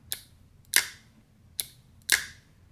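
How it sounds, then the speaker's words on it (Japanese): Daiwa 22 Exist spinning reel's air bail clicking shut, four crisp close mechanical clicks spaced about half a second to a second apart, alone in a quiet room. "ダイワの今までのエアベールが変わりました。"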